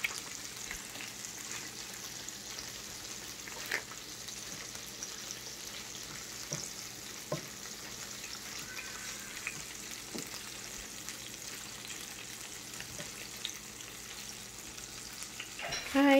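Asparagus frying in a pan while being stirred, a continuous soft sizzle with occasional scraping and light knocks of the utensil, steady and close throughout.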